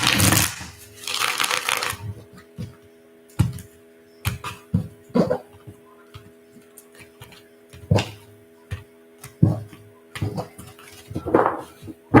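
A deck of cards being shuffled, with a dense riffling burst at the start followed by scattered taps, clicks and soft slaps of cards being gathered and squared, close and fairly loud.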